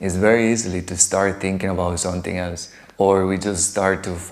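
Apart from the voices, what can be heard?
None of the usual background noises is heard.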